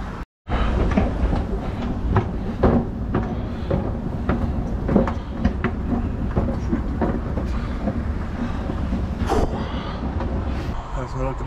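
A tram running on rails, a loud steady rumble with rhythmic clicks and clatter close by, while people talk over it.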